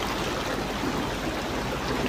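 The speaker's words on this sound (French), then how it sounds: "vous entendez l'écoulement de l'eau" A river flowing, a steady broadband wash of running water with a soft gurgle, moderately loud and constant throughout, with no voices.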